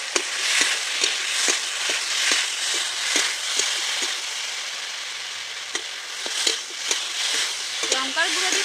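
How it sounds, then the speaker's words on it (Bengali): Curry spices and chili powder for a silver carp curry fry and sizzle in a pan, with regular scraping strokes of stirring over a steady crackle, close and fairly loud. "লঙ্কার গুঁড়ো দিয়ে খুব ভালো করে আমি কষিয়ে নিয়েছি"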